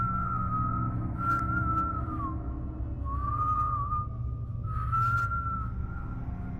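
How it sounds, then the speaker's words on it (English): Outside a house at night, someone whistles in three long, wavering notes with short gaps between them, clear and moderately loud over a low background hum. "A whistle, coming from outside the house."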